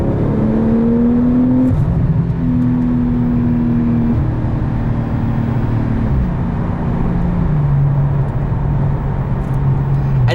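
A 2019 Porsche 911 Turbo accelerates at full throttle from inside the cabin, its engine droning loud and steady as the pitch climbs and drops through gear changes.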